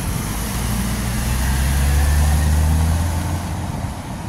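A CNG city bus in Beaumont with a Triton 6.0 liter engine and transmission pulls away, giving a steady, loud, low engine rumble that swells slightly and then eases, with no talking.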